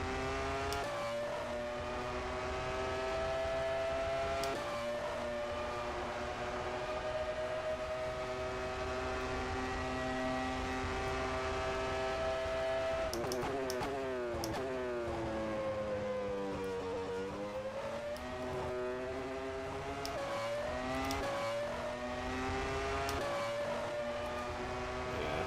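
Simulated 1996 Formula One car engine in rFactor 2, a loud continuous high-pitched wail rising and falling through gear changes, with sharp upshift breaks and a long downshift dip mid-run, no talk.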